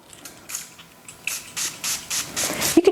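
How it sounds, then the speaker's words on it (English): A spray bottle spritzes alcohol onto a shower steamer mixture containing citric acid, giving about ten quick, crisp hissing bursts close by, in an uneven rhythm that speeds up toward the end. "Spray some alcohol."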